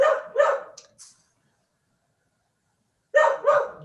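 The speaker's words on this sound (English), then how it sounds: "Sorry about the dog." A dog barks indoors in two short bursts of two or three sharp woofs each, separated by a long silence, fairly close and loud against a quiet room.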